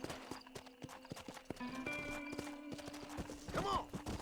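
Horse hooves clip-clop steadily in a Red Dead Redemption ride, a regular rhythmic beat under Western game music, with a brief whinny near the end.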